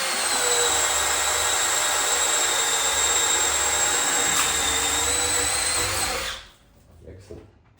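A power drill whines steadily and loudly for about six seconds while drilling wood for staked furniture legs, then cuts off, leaving quiet room noise.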